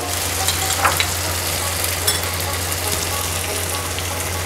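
Oil hisses loudly and steadily around a cooked-down masala as coriander powder goes in, for a Bengali chicken and potato curry. The close sizzle runs unbroken, with faint stirring clinks.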